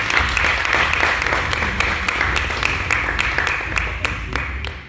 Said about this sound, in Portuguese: que também merece uma força salva de palmas.